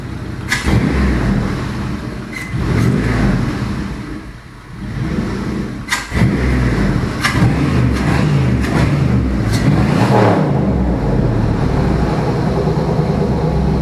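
A Chevy 5.3L LS Vortec V8 running on an engine stand gives a loud, continuous rumbling idle with a few sharp transient bangs over it and a brief dip in level midway.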